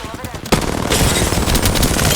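Rapid bursts of enemy gunfire in a video game, loud and dense, with automatic weapons firing continuously after a sharp onset.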